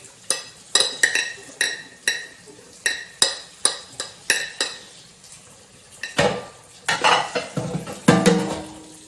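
Pots, pans and cutlery clatter and clink in a kitchen, with sharp knocks and scrapes arriving in an irregular series, close and alone, and a busier cluster of clanks near the end.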